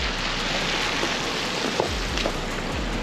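Steady, dense rainfall patters on surfaces in Concord, New Hampshire, a constant close hiss with occasional individual drops standing out.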